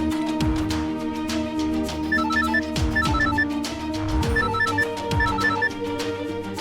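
A telephone rings with a repeating electronic ringtone, a bright melodic pattern cycling several times at a steady volume.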